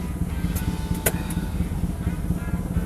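A small Honda Life car with a roughly 360 cc engine pulls away, its engine a close, steady buzzing drone with light rattles and a few brief clicks on top.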